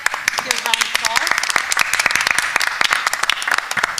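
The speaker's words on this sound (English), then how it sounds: "Give a round of applause." Room full of people at a public school board meeting bursting into applause, loud dense clapping that continues for several seconds while someone talks over it.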